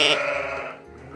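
A mother sheep in hard labor lets out a loud, drawn-out bleat close by that fades toward the end.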